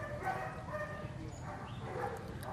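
German Shepherd puppies, long-haired males and short-haired females, give faint yips and whimpers at a distance over a low background murmur.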